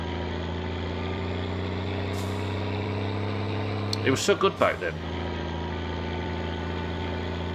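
The sewage truck in My Summer Car idles with a steady low engine drone throughout, while a voice speaks briefly over it midway.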